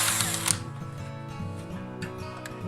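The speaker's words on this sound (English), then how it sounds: "Now what I need to do is drill a hole through here, right in the center" An electric drill bores a hole through a metal part, whirring steadily with a harmonic motor whine, short catches and grinding changes in pitch, close up with no talk.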